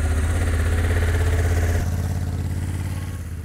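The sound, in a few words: Honda motorcycle engine as rider pulls away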